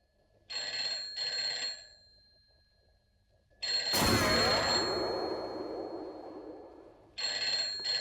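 A telephone bell rings in short double bursts near the start and again at the end of a scene in a Hindi TV drama, with a loud crashing swell in between and no speech.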